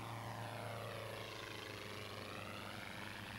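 A propeller airplane drones steadily over the sandy desert floor near Las Vegas. The low engine roar is loud and continuous throughout, with no voices.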